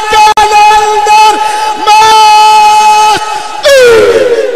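A large religious gathering at a Shaban celebration rises to its feet and shouts back a slogan. Loud massed voices roar in several bursts, with a brief gap between them and a final swelling cheer.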